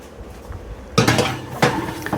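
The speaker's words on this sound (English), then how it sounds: "I'm just going to pop these in the oven." Metal muffin trays holding 12 regular and 24 mini sweet potato muffins clank as they go into the oven, with two sharp metallic bumps over quiet kitchen background.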